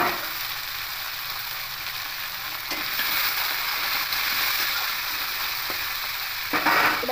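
Potato and greens stalks with chilies frying in a pan for a vegetarian greens stir-fry, giving a steady close sizzle with occasional stirring scrapes and no voices.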